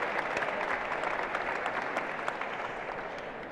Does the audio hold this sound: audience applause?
yes